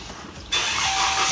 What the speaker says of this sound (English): start the car now